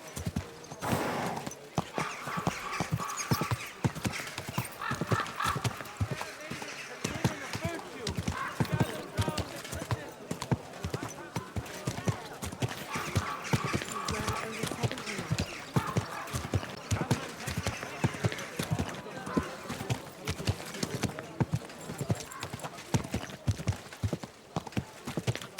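Steady clip-clop of horse hooves at a walking pace in the video game Kingdom Come Deliverance II, close and continuous, with a horse whinnying at times over a busy background.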